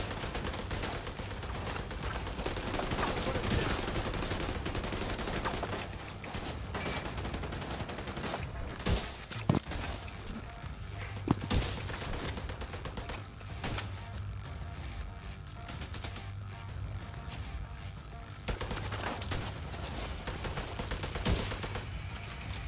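Gunfire in The Division 2 during a raid on Discovery difficulty, a dense and fairly steady stream of shots with occasional louder sharp cracks, running without pause throughout.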